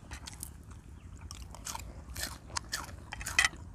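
Someone eats sticky rice with jaew bong chili paste by a canal, close, soft wet chewing and biting in an irregular rhythm, with a few sharper crunchy bites and no talk.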